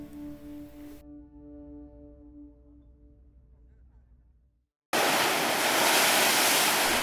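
Rough sea surf pounds the seafront promenade in Malta, a loud, steady wash of crashing waves filling the second half after a quieter opening with a low tonal hum and faint talk.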